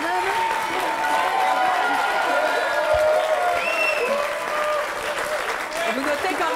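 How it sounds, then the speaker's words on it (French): Studio audience applause on a French couples' show, a broad continuous wash of clapping that holds steady throughout, with a voice talking over it partway through. "Je suis obligée d'applaudir quand même."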